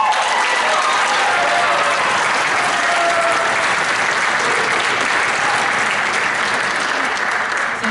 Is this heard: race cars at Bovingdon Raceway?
no